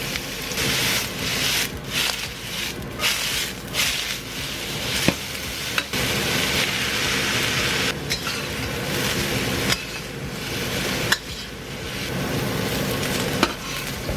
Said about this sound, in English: We're smoking in the wok, we're gonna go in with some oil. Chilies in.